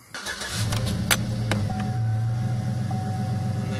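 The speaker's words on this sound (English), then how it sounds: "so now we're gonna go ahead and start our car back up." A Chevy truck engine cranks and catches, then settles into a steady, close idle with a continuous low hum and a faint high whine.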